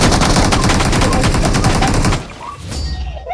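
Rapid bursts of automatic gunfire in a video game crackle loudly and continuously for about two seconds, then cut off, leaving quieter game sounds.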